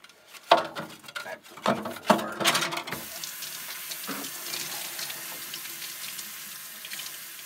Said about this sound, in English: Let's bring this inside and clean it up in the sink.